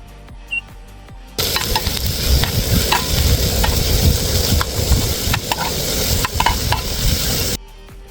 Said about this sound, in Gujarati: આપણું તેલ ગરમ થઈ ગયું છે એમાં ડુંગળી એડ કરી દેવી